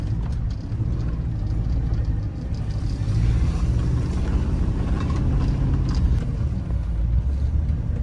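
An abandoned Hummer limo climbs a hill with a continuous low engine rumble and road drone, steady and close throughout with slight swells in loudness.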